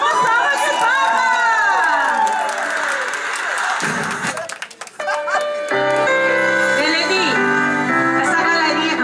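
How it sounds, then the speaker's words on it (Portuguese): A crowd at a family celebration party in Jardim Brasil claps and cheers over loud music, with whoops and chatter, a brief dip midway, then lively applause resuming. "Uma salva de palmas."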